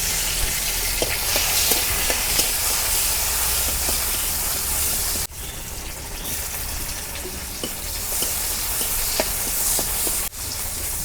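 Onion and garlic frying with dried fish in a pan over a clay stove, a loud steady sizzle and hiss throughout with small clinks of stirring, briefly dipping twice.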